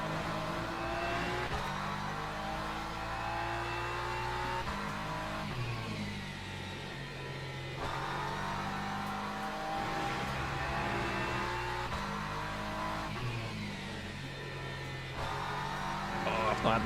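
A BMW GT3 race car's engine in the Le Mans Ultimate racing game drones steadily, rising and falling with gear changes and revs, loud and continuous throughout.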